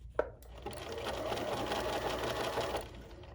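A BERNINA sewing machine running a satin stitch: after a brief click, a steady close motor whir with rapid needle chatter holds for about two and a half seconds and then stops, with no voice over it.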